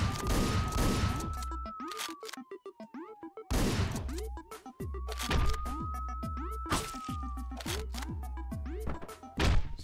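Shotgun blasts in the top-down action game Hotline Miami, sharp booming shots fired in a few bursts over a pulsing synth soundtrack with a rising tone, loud and close.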